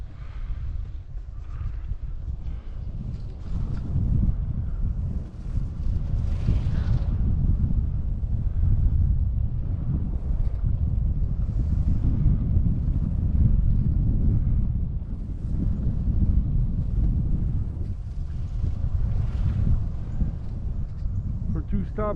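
Constant low wind buffeting the microphone while cycling through a small town with the wind at the rider's back: a steady, loud rumble that lasts the whole stretch, with speech picked up faintly under it.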